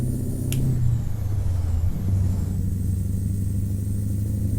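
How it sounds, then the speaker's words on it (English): A Mack Ultraliner truck engine in American Truck Simulator, pulling a Midland B-double tipper after a drop to third gear: a loud, deep, steady diesel rumble with a brief shift in pitch midway, alone without talk. "Listen to that engine."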